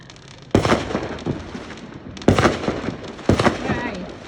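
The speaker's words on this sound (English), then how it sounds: "The whole town is fired up. And it's free fireworks." Town 4th of July fireworks seen from a deck: three loud, booming bursts spaced a couple of seconds apart, each with a crackling, rumbling tail echoing across the neighborhood.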